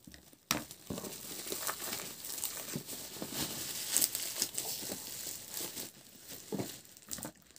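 Packaging for a V8 condenser mic sound card being unboxed: close crinkling and tearing of plastic and cardboard in irregular bursts, with sharp rustles and a few louder snaps, no talking.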